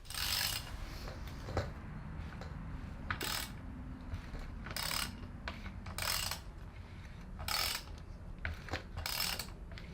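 Ratchet turning over a stuck Honda CB750 motorcycle engine: repeated bursts of close, sharp ratcheting clicks with metallic mechanical scraping in between, over a constant low background.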